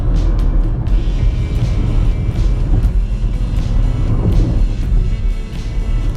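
A 2021 Chevrolet Tracker 1.0 Turbo LT automatic cruises at speed in sixth gear, heard from inside as a loud, constant low road and engine drone with tyre and wind noise and no talk.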